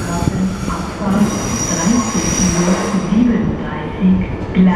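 Intercity train at a railway station platform, loud rumbling wheels with repeated high squealing from the rails, while a station announcement plays over the noise.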